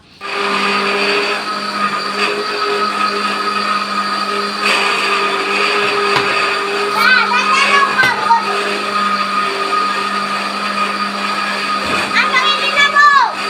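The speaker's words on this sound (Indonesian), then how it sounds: "Di sini udah aku blender untuk buah naganya ya." A kitchen blender whirs loudly and steadily as it purees dragon fruit at home, a constant high motor drone that runs throughout while children's voices chatter and squeal over it.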